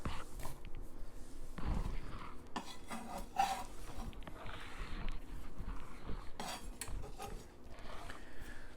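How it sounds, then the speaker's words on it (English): Peppers and onions sauté in a pan with a soft, steady sizzle, broken by close scraping and metal clinks of a utensil stirring against the pan. "Sauteing my peppers and onions."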